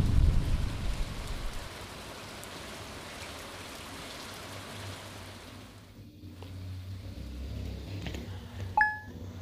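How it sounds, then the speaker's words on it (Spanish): Steady rain hisses in the farming video game Stardew Valley, a thick even patter that thins midway, with a soft low rumble of thunder underneath and a few brief chimes near the end. "Está lloviendo, ¿no?"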